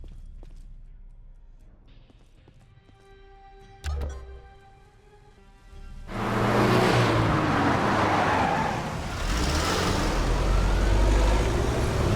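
A car arriving in Phantom Doctrine: after quiet ambience and a soft thud, an engine rises into a loud, close rumbling roar that holds steady as the vehicle pulls up.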